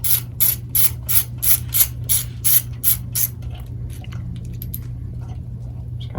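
Ratchet wrench clicking in quick bursts while loosening 10mm bolts near the airbox of a Honda CRF110 motorcycle, about ten sharp close ratcheting strokes followed by quieter handling noises.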